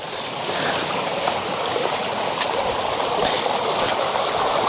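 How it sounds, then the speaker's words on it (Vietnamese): A mountain stream flowing through forest makes a continuous close rushing and burbling of water, steady and fairly loud throughout with no voices. "cả nhà nghe tiếng nước suối chảy róc rách không?"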